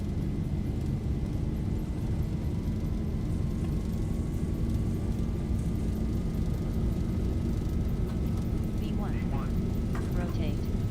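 Airliner jet engines at takeoff thrust in an OpenGL flight simulator: a steady, loud broadband roar with a low rumble and a slowly rising whine, continuous throughout, with brief chirpy sounds near the end.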